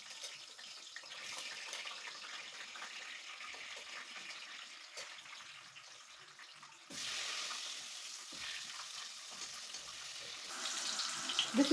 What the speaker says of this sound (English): So my parboiled potatoes, I will fry it on the same oil.